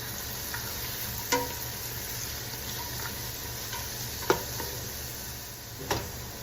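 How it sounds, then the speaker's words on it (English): Mirepoix stirred in a stock pot over a soft, continuous sizzle, with a few sharp spoon taps and scrapes against the pot spaced a second or two apart, close and quiet. "stir it around a bit."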